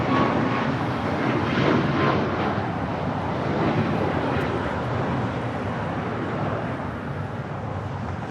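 An American Airlines jet on its takeoff roll at Los Angeles International Airport gives off a loud, broad, sustained engine roar that holds steady throughout, with a brief radio call over it.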